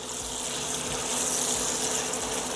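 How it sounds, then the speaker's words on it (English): Bacon frying and bubbling in a pan, a steady hissing sizzle with a broad crackling wash that holds continuous and close throughout. "The sound goes from like a boiling water to a frying oil."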